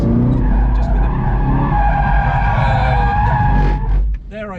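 A Camaro ZL1 1LE spins out on a race track, its tires squealing loudly and continuously along with the engine's drone, close and harsh, before the squeal fades out.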